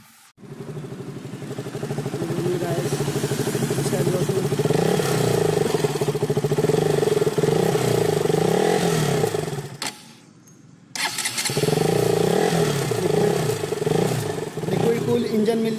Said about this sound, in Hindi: तो आइए गाइस, इसका एग्जॉस्ट नॉइज़ सुनाता हूँ आपको।